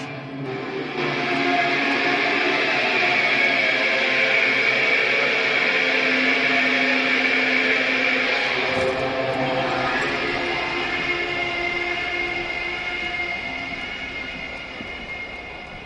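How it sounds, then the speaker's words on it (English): A Caprice Canadian motor carriage passes by in the video game Disco Elysium: a loud, continuous mechanical drone with a rolling, train-like rumble that holds steady throughout and then tapers slightly at the end. "It's a sound. Somehow, you know what it is. A Caprice Canadian motor carriage."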